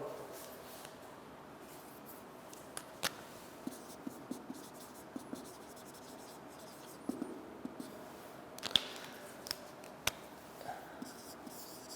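A theorem statement is written out by hand on a board, with steady faint scratching punctuated by sharp taps and clicks at irregular intervals across the whole stretch, close and quiet.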